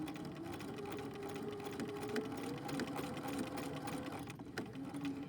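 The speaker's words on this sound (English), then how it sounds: "3 to 5 stitches forward, and then I'm going to push my backstitch and hold my backstitch button" A sewing machine runs steadily while stitching a 5/8 inch seam allowance with a few backstitches, giving a continuous close mechanical whir with small shifts in pace and no talk.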